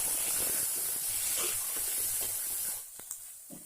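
Chopped tomatoes sizzle in a hot pan during village-style cooking for chop posto, a steady close hiss with faint stirring scrapes that eases off near the end.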